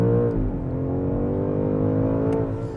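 A 2025 BMW M5 Touring hybrid with 717 horsepower and all-wheel drive accelerates hard, its engine holding a loud, steady, deep drone that climbs slowly in pitch, heard from inside the car with no talking.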